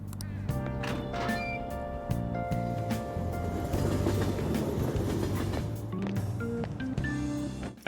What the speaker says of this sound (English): we take the train and now we're back